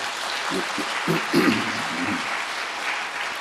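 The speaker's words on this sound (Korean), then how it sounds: "한번 박수 크게 해드리겠습니다" Church congregation applause fills the sanctuary, a steady, moderately loud patter of many hands that holds throughout while a voice speaks briefly over it near the start.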